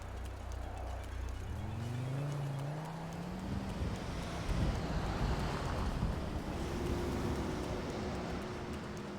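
Car driving in Grand Theft Auto 5, a steady low engine drone with rising and shifting pitch as it accelerates, close and continuous, with wind-like rushing noise layered over it.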